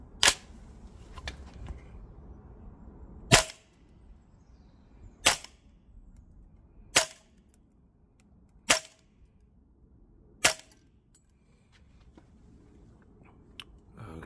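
A Cyma T8 M4 PDW gas blowback airsoft rifle fires green gas with 0.25 gram BBs outdoors, sounding as five sharp, evenly spaced single shots with quiet gaps between them.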